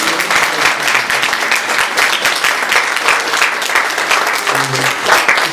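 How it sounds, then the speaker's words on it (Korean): Congregation clapping during a Sunday church service, a steady dense wash of many hands filling the room for several seconds, with faint murmuring voices beneath. "박수로 축하드립니다"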